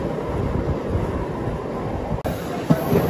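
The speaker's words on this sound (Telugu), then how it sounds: "ఏంటి రోజు ఇన్ని గూడ్స్ ట్రైన్లు ఎదురవుతున్నాయి మనకు అసలు" A goods train rumbles past a MEMU passenger train between Rajahmundry and Visakhapatnam, a continuous close rushing roar with a brief sharp break near the end and a thump afterward.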